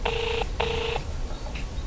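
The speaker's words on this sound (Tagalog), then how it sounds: "Nagriringan ti cellphone na." A cellphone rings with two bursts of an electronic ring tone and then begins a third, steady and fairly loud over a background hum, with no one speaking.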